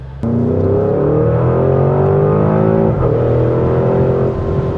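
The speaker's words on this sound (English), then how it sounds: "Now you can feel it downshifting and some pops and crackles back there." A 2024 Porsche Cayenne Turbo GT runs loud from inside the cabin, its engine note shifting through several stepped pitch changes with a brief sharp blip near the start and a dip near the three-second mark.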